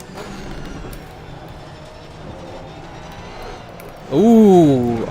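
A BMW M4 GT3 race car in the Assetto Corsa Competizione racing sim idles with a low hum while a voice talks, then the engine surges into a loud, rising launch rev near the end.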